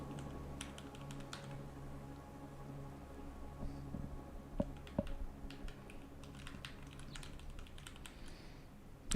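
Code is typed on a computer keyboard in quick irregular bursts of soft key clicks with brief pauses between them, close and fairly quiet, with a few sharper keystrokes standing out.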